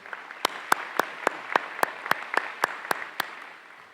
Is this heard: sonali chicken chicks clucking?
no